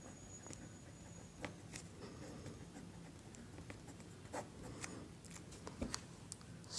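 An equation is written by hand during a Class 10 math lesson, with quiet, irregular scratchy pen or chalk strokes and light taps, close but faint, without speech.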